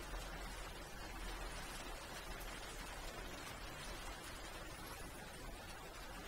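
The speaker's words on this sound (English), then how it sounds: "you can hear the rain coming down today. It's really coming down heavy" Heavy rain pours down outside, a steady dense hiss of drops with no break, heard faintly from indoors.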